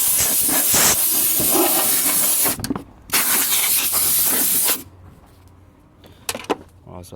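Compressed air blasting out a Volvo D5 air filter in hissing bursts, two long loud blasts, then a pause and a few short puffs.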